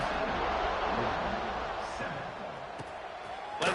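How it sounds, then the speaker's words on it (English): A stadium crowd buzzes with a broad, steady roar in the Madden American football video game, heard under an announcer's continuous commentary, with a sharp thump at the very end. "this crowd is buzzing after that last score"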